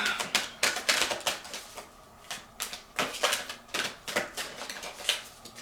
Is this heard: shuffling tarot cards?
yes